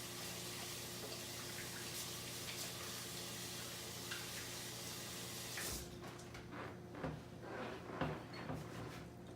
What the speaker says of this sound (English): I'm going to wash my hands quick.